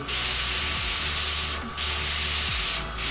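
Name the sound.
airbrush spraying tattoo stencil clouds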